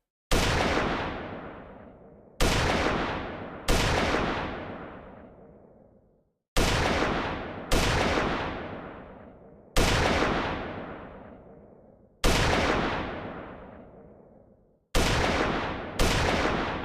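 Gunshots from a firing animation in an Unreal Engine 5 game, with about nine loud single shots at irregular intervals, each one ringing out in a long decaying tail with silence in between.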